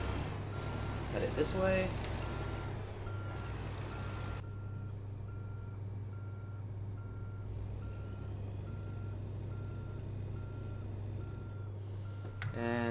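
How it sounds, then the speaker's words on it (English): Reversing beeps from a truck backing a trailer in American Truck Simulator, a steady repeating electronic beep over a constant low engine drone, with a voice speaking briefly near the start. "Start backing the trailer in."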